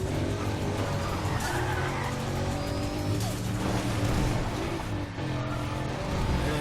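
Car in Need for Speed ProStreet sliding around a turn, a loud continuous engine drone with skidding tire squeal over it, close and steady throughout.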